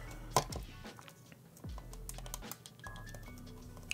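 Adhesive tape is pulled and pressed onto a vintage Polly Pocket piece, heard as close, irregular crinkles, taps and short tearing rips over a quiet background.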